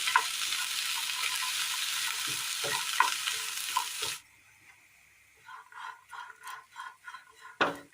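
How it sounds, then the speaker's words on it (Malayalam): Okra being sautéed in a pan sizzles loudly and steadily for about four seconds, then drops to quieter crackles with short bursts of stirring scrapes near the end. "വെണ്ടയ്ക്ക ഒന്ന് വാട്ടിയെടുക്കാം"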